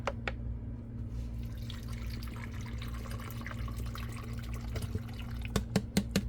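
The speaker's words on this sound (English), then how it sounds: "I'll go ahead and add some water." Bottled water poured into a blender over bananas and tangerines, a quiet continuous trickle over a steady low hum, ending in a few sharp drips and knocks.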